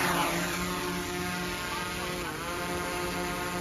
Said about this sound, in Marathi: ह्याच्यावर प्रेस करून धरायचं, ड्रोन चालू झाला.